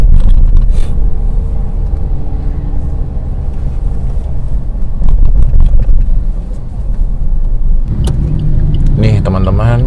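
A Suzuki Ignis GX with manual transmission creeps through heavy, jammed traffic, low steady engine and road rumble filling the cabin while a person talks over it.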